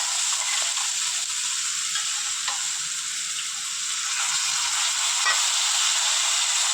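Steady, loud sizzling and crackling of a thick eggplant chutney paste frying in a hot pan, continuous hiss with small pops, no voices.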